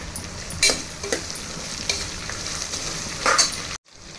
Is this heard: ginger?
yes